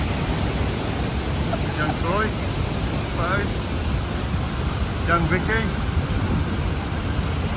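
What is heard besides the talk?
Tegenungan waterfall in Bali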